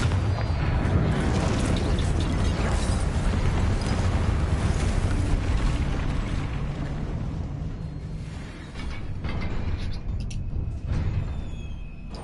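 Confringo blasting spell explosions from Hogwarts Legacy on PS5 roar as a long, dense rumble of booms that stays loud for several seconds and then thins into scattered softer bursts.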